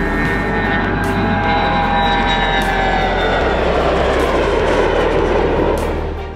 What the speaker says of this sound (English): Runway is clear. You're going for takeoff.